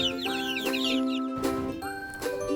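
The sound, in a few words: chickens and ducks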